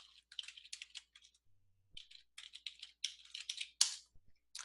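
Keys clatter on a computer keyboard in quick bursts as a username and password are typed. The typing sounds close and crisp, with brief gaps between runs.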